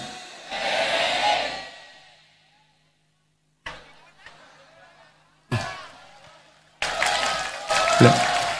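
An audience at an Islamic religious gathering bursts into clapping in two short rounds, loud and broadband, separated by stretches of someone speaking and near silence.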